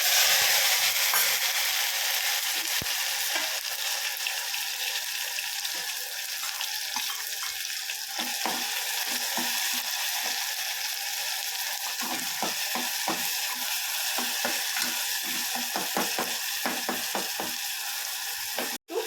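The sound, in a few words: mustard seeds and chopped tomatoes frying in oil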